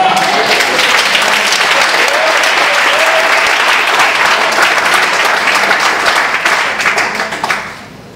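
A church congregation breaks into loud, sustained applause for about seven seconds, with faint voices mixed in, before it tapers off toward the end.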